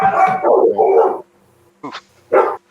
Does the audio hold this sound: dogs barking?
yes